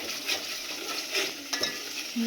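Masala being sautéed in oil in a pan until the oil separates, with a steady soft sizzle and scraping stirs throughout, close and fairly quiet.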